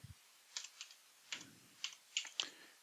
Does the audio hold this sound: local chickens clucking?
no